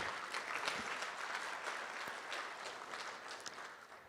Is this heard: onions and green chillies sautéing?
no